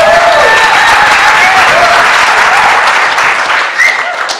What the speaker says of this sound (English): How about a real round of applause to prove that we're really an Detroit audience?